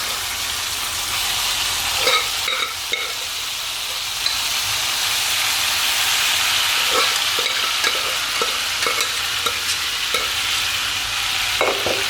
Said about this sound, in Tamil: எண்ணெய் சூடானோன்னே நம்ம இந்த கிரேவியில் போடணும் மட்டனை போடணும்